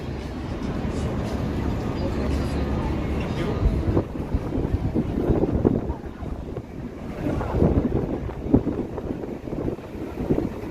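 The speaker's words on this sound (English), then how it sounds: "Very windy." Strong wind buffets the microphone in a continuous low roar on a downtown Toronto street in the evening, swelling and easing in gusts, with muffled voices faintly underneath.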